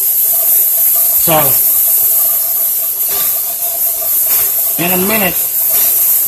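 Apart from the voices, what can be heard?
pressure cooker hissing steam while cooking teriyaki drumsticks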